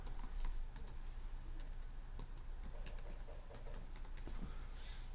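A password is typed on a computer keyboard, with quiet, irregular clicking keystrokes in a soft run and no talking.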